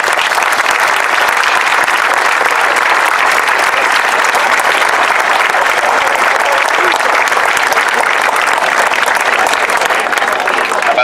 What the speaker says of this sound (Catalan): li volem donar un aplaudiment i un recolzament tots.